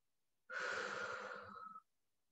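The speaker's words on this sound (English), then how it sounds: "We're just breathing here." A single long breath during a Zoom yoga session, a soft steady airy exhale lasting over a second, close to the microphone and alone.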